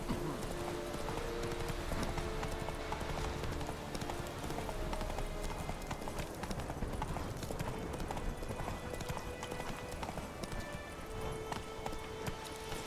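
A horse's hooves clip-clop steadily at a riding pace in The Witcher 3 video game, a continuous even rhythm with faint background ambience and no talk.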